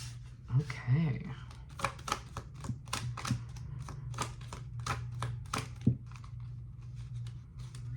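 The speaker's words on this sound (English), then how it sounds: "Give me a minute here to kind of pull some cards." Tarot cards being shuffled and pulled for a reading, with quick papery flicks and soft snaps in a close, quiet room, alongside a faint low hum.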